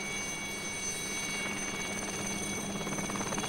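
A military helicopter during the 1983 US invasion of Grenada, with steady rotor chop and a high turbine whine that hold throughout and grow slightly louder near the end.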